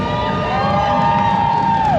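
Audience at an anime convention cheering for cosplay contestants on stage, a steady crowd roar with whoops rising over it and one sustained tone sliding down at the end.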